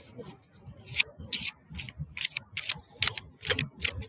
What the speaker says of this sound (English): But let's just pull some more cards.